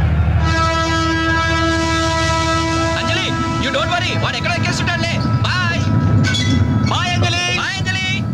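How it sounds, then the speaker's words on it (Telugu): A passenger train pulls out of a station with a continuous rumble and horn-like tones. Several people talk loudly over it. "ట్రైన్ మూవ్ అవుతుంది"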